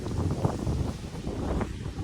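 Strong cold wind buffets the microphone beside a boat in Norway, a steady broadband roar that fills the short stretch with no pause.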